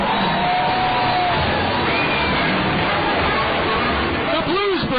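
A ballpark crowd at a minor-league baseball game roars and cheers for the Blues Brothers performing during the bottom of the eighth inning, a dense continuous din of shouts and whoops with voices mixed in.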